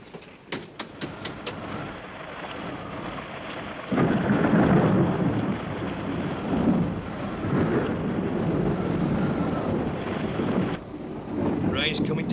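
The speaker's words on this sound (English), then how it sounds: "Rain's coming down in bucketfuls." Heavy rain pours steadily with deep rolling thunder, a strong dense roar that swells after the first few seconds, with a few sharp crackles early on and gusty wind noise throughout.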